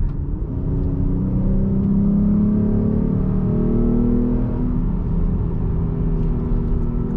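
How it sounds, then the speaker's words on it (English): A Jeep Grand Cherokee with a V6 engine, in sport mode with paddle shifters, revs and accelerates from inside the cabin, its engine note rising and falling in a steady, loud rumble with no talking. "see if we can have a little bit of fun and make a little bit of noise with what we have with the V6 Grand Cherokee"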